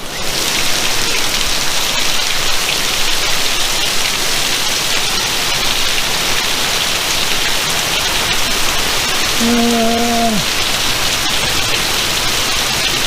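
Steady heavy rain pours down outdoors, a dense constant hiss and patter that fills the whole stretch, with a brief tonal squeak near the end.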